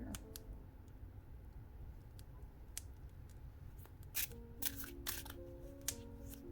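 Tarot cards being shuffled by hand during a fireside reading, heard as a few soft, quick riffling bursts late in the clip over a faint, steady background hum.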